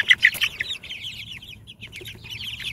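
A few loud, close clucks open, then a steady stream of softer chicken clucking and murmuring continues without any voices.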